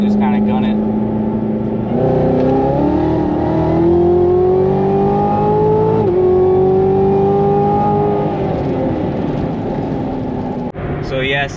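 A Corvette Z06 accelerates hard from about 50 mph, heard from inside the cabin as a loud, rising engine howl climbing steadily through gears with a shift break midway, then easing off at the end.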